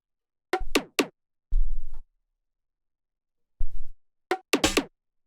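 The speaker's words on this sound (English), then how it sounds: "the last percussion here are these 3 layers" Three layered percussion loops in a minimal tech groove, sparse dry clicks and short noisy hits in a call-and-response pattern separated by silences, moderately loud and alone.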